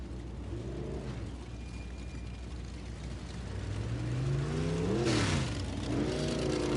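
Vintage A-class race cars circle a clay oval track, their engines whining and rising in pitch as they pass, several overlapping cars with the loudest sweeping close by near the end.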